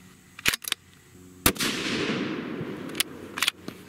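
Sig Cross rifle in .308 Winchester firing handloaded rounds, several sharp loud shots with a long rolling echo after one, outdoors, no talk.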